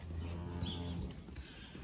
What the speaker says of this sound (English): They're beautiful calves.